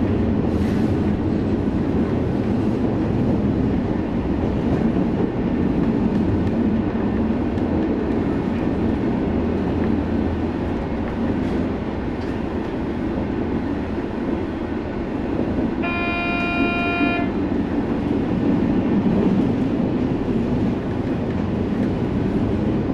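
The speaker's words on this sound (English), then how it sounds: "events like the arrival of 2 ICE trains at Braunschweig on the hour" Steady rumbling rail noise of ICE high-speed trains rolling into a station at Braunschweig, with a brief horn blast partway through and a constant roar of wheels.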